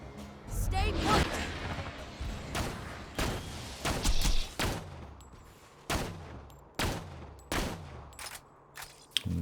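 Gunfire in Borderlands 3 as Maya shoots at an enemy: about a dozen separate sharp reports, spaced irregularly, each one clear and close, with quiet game noise between them and some talking.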